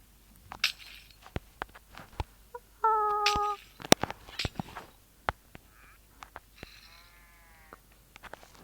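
Minecraft chicken jockey clucks sound in short bursts amid sharp clicks and thumps, with a brief buzzing tone and scattered soft effects in between.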